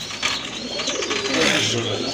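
A large pair of white Danish pigeons coos in a busy pigeon-selling spot, throaty calls rising close by over background chatter.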